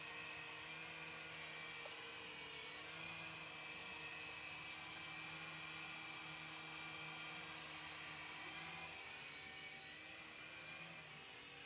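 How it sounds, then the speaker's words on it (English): A Syma S107G toy RC helicopter flies nearby with a thin, high, whining buzz from its small motors, steady and fairly faint, with no voices. "Now this helicopter is very forgiving."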